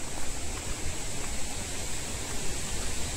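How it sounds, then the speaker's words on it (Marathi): Steady broadband roar of a waterfall in Tansa Wildlife Sanctuary near Shahapur, heard from a short distance as a constant moderate wash with no voices. "तर धबधब्याचा आवाज येतच असेल तुम्हाला"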